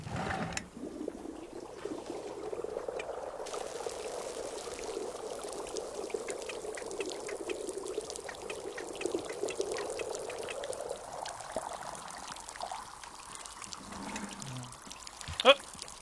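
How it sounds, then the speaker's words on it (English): Liquid pours out steadily in the video game Wanderstop, a continuous watery stream running for many seconds and thinning toward the end, with a sharp clunk near the finish and faint talk underneath. "Pour you out."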